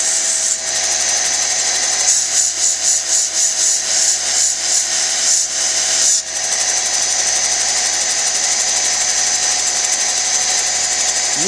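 A lapidary grinding wheel works a freeform stone cabochon, a steady, loud high-pitched whir and grind that runs without a break, with a sharp shift in the contact sound about halfway through.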